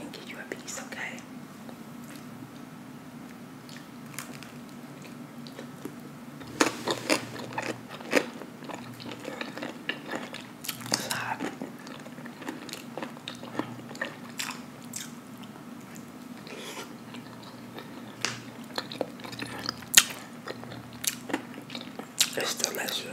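Someone bites into and chews pizza close to the microphone, with repeated crunchy bites and soft wet chewing throughout, while a voice whispers in between.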